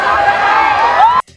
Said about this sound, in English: the crowd went wild as they sang and rapped along